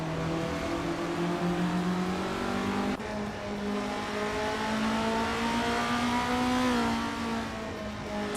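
Estonia 25 Cup race cars on the Autumn Ring Mini circuit in a video game, engines droning and revving steadily close up, pitch climbing and then dropping with a gear shift partway through.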